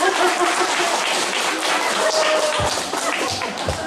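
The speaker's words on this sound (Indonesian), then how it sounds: "Berikan tepuk tangan kepada" Audience applause at a KKR evangelistic service in Tambolaka, Sumba, a dense steady wash of many hands clapping for about four seconds, loud and close, with a few sharper claps and faint voices mixed in near the end.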